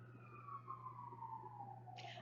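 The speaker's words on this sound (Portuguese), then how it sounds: "Lá vem a sirene." A siren wails as one long, steady tone that glides slowly downward, moderately loud against a low, constant hum, and ends in a brief burst of hiss.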